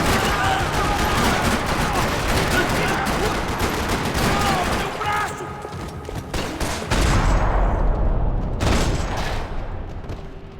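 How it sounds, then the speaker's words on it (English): Sustained gunfire rattles across a parking lot in the video game Max Payne 3, rapid automatic bursts and single cracks overlapping densely, loud and close, with heavy booms and a short pause before more shots near the end. "Another parking lot rattling with gunfire."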